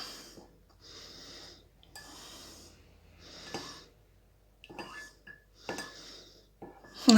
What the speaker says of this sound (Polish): I teraz będziemy mieszać, żeby się rozpuścił nasz miód w naszej herbatce.